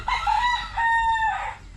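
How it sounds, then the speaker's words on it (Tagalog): A rooster crows loudly and close, one long drawn-out call with a rising then falling tone, over faint background noise, in a quiet mountain countryside in Bicol. "may mga manok sila dito"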